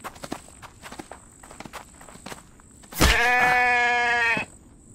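A sheep in the video game The Infected gives one loud, wavering bleat lasting over a second, preceded by a run of light in-game footsteps.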